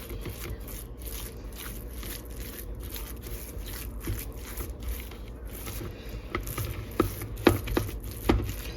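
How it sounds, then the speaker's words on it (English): A spoon stirs salt into curdled milk in a bowl, making soft repeated scraping and wet swishing strokes, quiet at first and growing slightly busier with a few sharper clinks near the end. "And I'm just going to mix it in."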